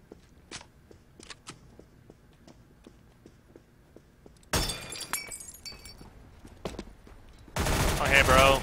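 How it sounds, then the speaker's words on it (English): Gunfire in Counter-Strike: Global Offensive, with rapid quiet clicks early on followed by two loud bursts of close shooting, the second dense and sustained, mixed with glassy crackles. "I like randomly shooting into the air"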